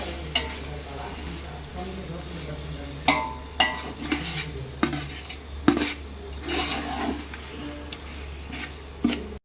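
Boiled mutton pieces stirred in a pot for biryani, with a soft scraping and sizzling bed broken by several sharp scrapes and knocks of a spoon against the pot, fairly faint.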